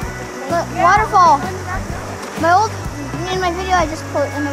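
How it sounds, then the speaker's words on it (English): A steady rush of a waterfall on Mt. Baldy runs beneath lively children's voices and excited chatter that dominate the foreground throughout. "Waterfall."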